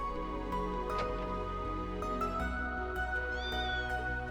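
A cat meows several times in the Trails into Reverie video game, quiet and drawn out against a steady musical background.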